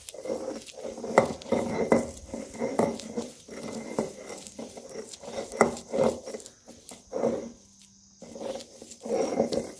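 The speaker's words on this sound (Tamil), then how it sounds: "இப்போ கட்டுக்கொடியும் முதல்ல உண்ணி இலையும் கொன்றை இலையும் சேர்ந்து எல்லாம் ஒன்றா அரைக்கிறோம்." Herb leaves, including unni and kondrai leaves, being ground together by hand, giving repeated rubbing and scraping strokes in an uneven rhythm, close and fairly loud, with a brief pause near the end.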